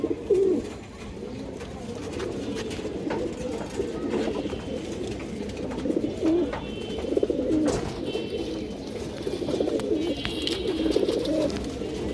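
Silver pigeons coo steadily in low, throaty murmurs, several birds overlapping close by with faint rustling.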